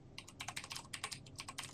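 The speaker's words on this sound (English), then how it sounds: "Sorry for my loud ass typing. I got the mechanical keyboard." Rapid clacking keystrokes on a mechanical computer keyboard, close and crisp in an irregular, busy rhythm, with no voices over it.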